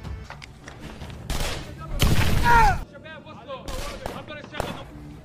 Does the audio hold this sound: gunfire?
yes